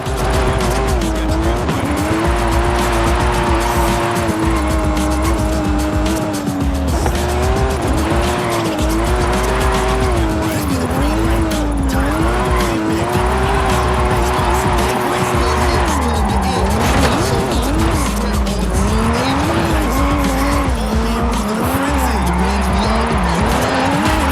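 A high-powered car drifts in Forza Horizon 5's Mexico drift club, engine roaring steadily at high revs while tires squeal in long wavering sweeps, loud and continuous throughout with a narrator speaking over it.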